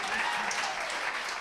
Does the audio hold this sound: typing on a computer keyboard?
no